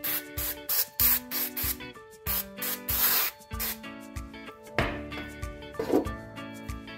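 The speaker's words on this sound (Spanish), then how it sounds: "Y aceite con este spray." Short hissing bursts of cooking oil from a spray bottle land on popcorn kernels readied for an air fryer, repeated in quick pulses over steady background music.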